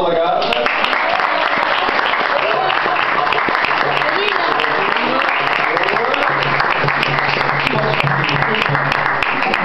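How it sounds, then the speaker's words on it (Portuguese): An audience at a costume parade claps steadily and energetically, a continuous dense patter with voices mixed in underneath. "Palmas, palmas para a nossa lagarta."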